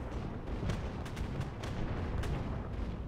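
Artillery fire in the War Thunder tank game, heard as a dense low rumble with several distant booms and cracks over about three seconds, fairly faint.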